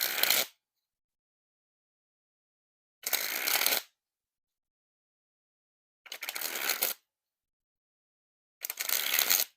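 Black1st v6 playing cards springing from hand to hand in four separate bursts of rapid riffling flutter, each under a second long, close and crisp with silence between.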